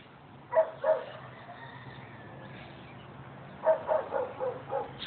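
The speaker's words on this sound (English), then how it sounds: "Dog has been barking like this for over 2 hours now" A dog barks in two bursts, a pair of barks early on and then a run of five or so, over a quiet background hum.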